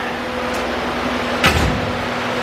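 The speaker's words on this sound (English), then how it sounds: "Here's my radiator. Fans turn on." Radiator cooling fans on a drift car start up once the ignition is on, adding a loud, steady whirring drone over a constant hum, with a short clunk as they engage.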